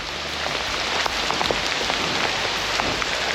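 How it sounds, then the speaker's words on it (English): Heavy rain pours steadily during a morning thunderstorm, a dense continuous hiss with scattered louder drops pattering close by on a surface. "It is like 8 a.m. and now it's pouring."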